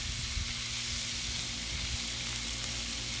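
Sausages sizzle on a hot Blackstone griddle as they are rolled over, a dense steady crackling hiss that continues without pause, close and fairly loud.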